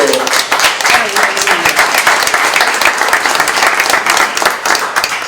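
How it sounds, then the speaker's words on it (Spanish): Loud, sustained audience applause after a Neruda poem is read at a public talk on sculpture in public space, with rapid, dense clapping from a large crowd and a brief murmur of voices early on. "Un aplauso."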